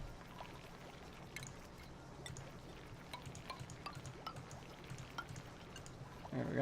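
Water pours steadily in the colony-building game Oxygen Not Included, a soft continuous splashing trickle with scattered drips, faint and even throughout.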